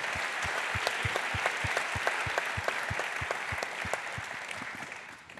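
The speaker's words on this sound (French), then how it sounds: "On l'accueille là avec vos applaudissements" An audience applauds to welcome a speaker at a French talk on AI, a steady wash of clapping with one strong rhythmic clapper beating out a regular pulse; fairly soft and distant, easing off at the end.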